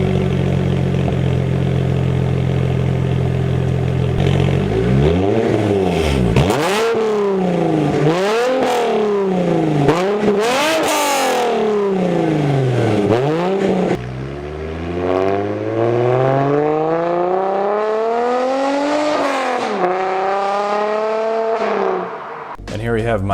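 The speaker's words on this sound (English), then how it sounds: "it's a very clean exhaust note" A BMW N52 car engine with a custom valved exhaust revs repeatedly, the exhaust note rising and falling in sweeping pitch swings, loud and close, with voices speaking beneath it.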